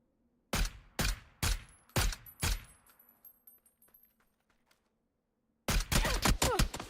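Gunfire in PUBG, five loud evenly spaced shots followed by fainter distant pops and near silence, then a sudden fast burst of several shots close by.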